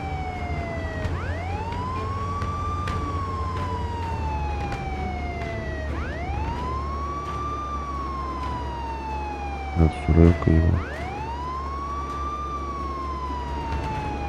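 Wailing police siren from a vehicle in the video game Contraband Police, sweeping up and down in steady cycles over a constant engine hum, loud and close, with a short burst of brief knocks near the end.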